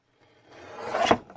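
Scissors slice through an index card, a soft rasping cut that builds over about a second to a brief sharp snip near the end, close and quiet with no talking.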